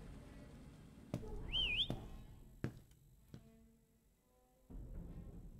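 A game character in Lazaret, a ghost-ship exploration game, whistles one short rising-and-falling phrase near the middle, over low ambient rumble with a few sharp clicks and thuds around it.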